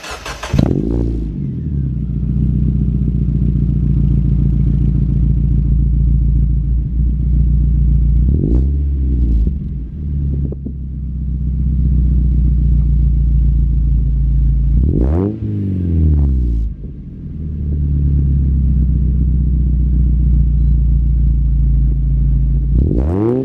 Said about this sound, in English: I'll let it warm up and then do a couple revs for you guys